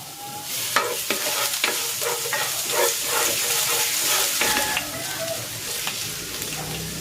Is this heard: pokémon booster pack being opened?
no